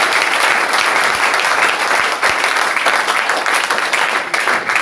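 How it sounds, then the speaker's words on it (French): A church congregation applauds again for the Lord, a loud, continuous burst of many hands clapping together with scattered sharper claps, holding steady for several seconds. "Applaudissons encore pour le Seigneur."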